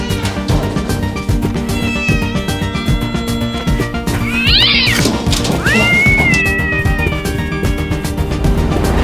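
Loud, close kitten meows ring out in the middle, a high squeaky cry followed by a longer mew, over a busy, dense background that continues throughout.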